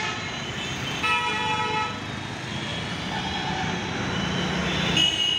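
Road vehicles pass by outdoors on a street with steady traffic noise, with a horn tooting around one second and again near the end, moderately distant and continuous.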